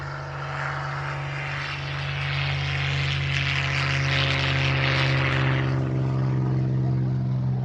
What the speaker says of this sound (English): Three aircraft got airborne to perform a very special flypast. First the Spitfire,